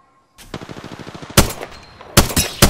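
A rapid, evenly spaced burst of automatic gunfire in the battle royale shooter Apex Legends, followed by two louder, denser volleys of shots, all close and prominent with no voices over them.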